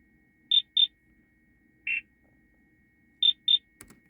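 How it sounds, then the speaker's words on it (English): Short electronic beeps in a music track, two quick high pips, a single lower tone, then two more pips, clean and isolated against near silence, with a faint tick at the end. "Also added some beeping sort of thing, which I think sounds quite cool."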